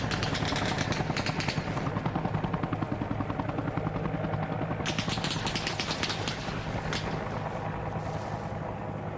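A helicopter gunship in a shooter game roars nearby with rapid, steady rotor thumping, joined by bursts of rattling gunfire partway through.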